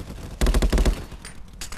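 A grenade blast and a rapid burst of gunfire in Call of Duty: Black Ops 4, played in a Domination match on the Summit map; loud, close shots crack in quick succession, then a quieter trailing shot.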